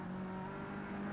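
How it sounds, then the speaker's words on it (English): Racing car engine on a British circuit in 1997, a camera car pulling out of the paddock, a steady loud droning roar with a sustained low hum, close and unbroken, no voices. "Out of paddock comes our camera car, Chris Lord."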